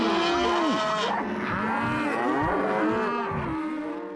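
Several cattle moo in overlapping, drawn-out calls that rise and fall, loud and close, one after another with no talk.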